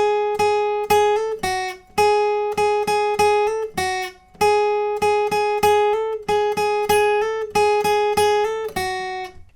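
Guitar plays a lead riff: a repeated phrase of clean, sustained plucked notes in a steady rhythm, close and clear with no talking.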